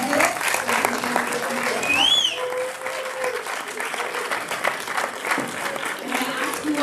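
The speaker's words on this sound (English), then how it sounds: "Give another round of applause to our candidates." Audience at a District 7 city council candidate forum in Boston applauds the candidates, sustained clapping and some crowd murmur filling the room, with a voice speaking over it and a short whistle early on.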